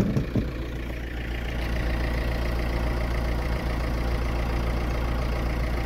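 A car engine idling nearby, a steady low rumble with a faint knock or two at the start, then an unbroken even hum.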